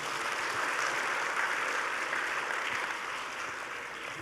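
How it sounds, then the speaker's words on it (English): At the opening ceremony of the 6th ASEAN Smart Cities Network annual meeting, an audience applauds in a dense, even wash of clapping that fades slightly toward the end, with no voices over it. "May I have a big round of applause for all of us?"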